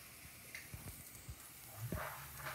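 Salmon croquettes fry in a pan with a faint, steady sizzle and hiss, broken by a few soft pops and knocks, heard quietly without speech.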